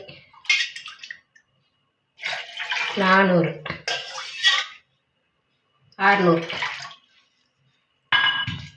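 Water pours into a metal pot in several bursts separated by pauses, about 600 ml in all for an herbal decoction, close and bright, with a person speaking briefly between pours.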